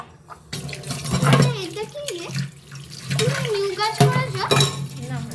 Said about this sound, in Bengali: বাটিটা ধুয়ে